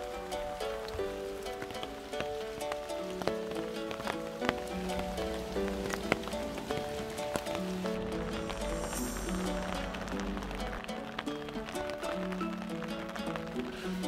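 Rain falls steadily around a shelter under a bridge on a late-autumn forest trail beside a lake, a continuous patter with scattered drips and taps, fairly close and even throughout with no talk.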